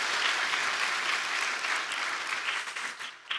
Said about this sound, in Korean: 한번 뜨거운 박수 보내주시기 바랍니다